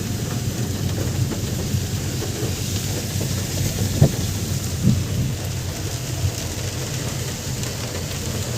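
Steady rain falls near Dal Lake in Srinagar, a constant wash of sound with a couple of faint, brief thumps of distant thunder around the middle and no voices.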